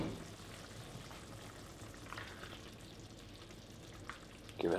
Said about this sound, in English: after 15 minutes, bubbling away nicely,